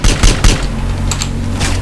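Rapid gunfire in GTA San Andreas, with a few loud bursts at the start and then a steady rattle of shots under a low game soundtrack hum.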